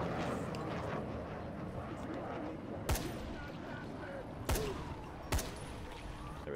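Gunshots in Dying Light, a zombie game, ring out in the Old Town area as three sharp, separate cracks spaced a second or two apart over steady background game noise.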